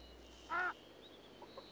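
A mallard hen gives a single short, moderately loud quack in a quiet marsh, followed by a couple of faint, brief peeps that could come from ducklings.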